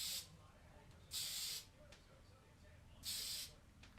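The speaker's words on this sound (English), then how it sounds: "Hairspray." Two short bursts of hairspray from an aerosol can while styling a boho bridal look, each a bright hiss lasting about half a second, close by over a quiet room.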